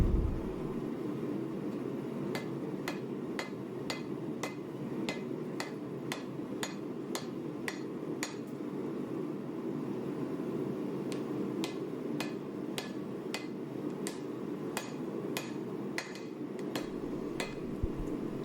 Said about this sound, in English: On the final heat, I like to try and hammer in on the corners, on the edges of the billet.